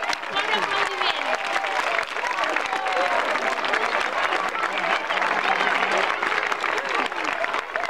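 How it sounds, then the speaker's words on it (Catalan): Audience at a poetry prize ceremony applauds a winner, sustained clapping from a crowd with voices and a few cheers mixed in throughout. "Bon aplaudiment!"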